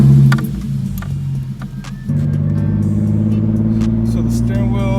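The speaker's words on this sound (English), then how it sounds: "So let's see, a quick little test drive around the block." Lexus car on a short test drive around the block after a tire shop alignment, its engine humming steadily from inside the cabin and picking up after a couple of seconds, with a person talking over it.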